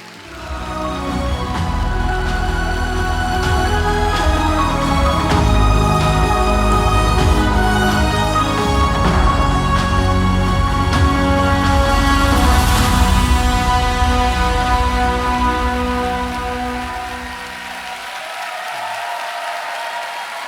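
A church audience claps in steady, dense applause to welcome a missionary speaker, with tonal music running underneath; it holds for about seventeen seconds, then thins and fades.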